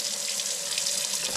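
Water gushing steadily from a cabin tap once the spring supply is turned on, a constant close hiss and splash with no pauses.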